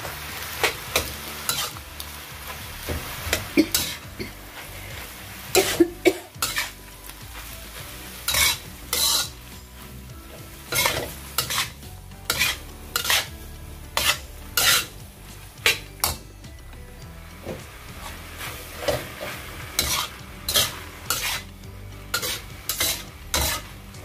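Egg and macaroni stirred in a pan, a utensil scraping and clinking against the metal in repeated bursts over a steady sizzle, close and fairly loud, no voices.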